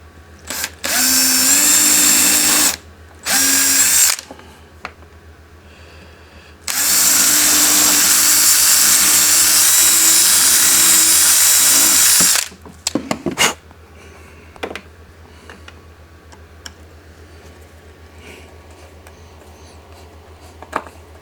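A power drill drives screws into a repaired cabinet door: two loud, sustained whirring bursts near the start, then one long steady run of several seconds, followed by quieter clicks and handling noises with no talk.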